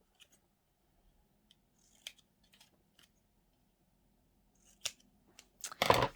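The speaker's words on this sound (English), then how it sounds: "I'm just going to cut these edges now" Scissors snip the edges of paper napkins and tags for a photo album journal, a few quiet scattered cuts building to a louder close burst of snipping at the end.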